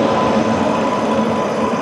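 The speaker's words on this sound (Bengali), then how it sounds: "আমাদের ট্রেন ছেড়ে দিল লুধিয়ানা জংশন" The Himgiri Express pulls out of Ludhiana Junction with a steady, loud low rumble and rattle of rolling carriages throughout this short moment.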